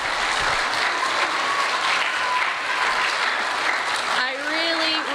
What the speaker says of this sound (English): Can we give the teens a round of applause?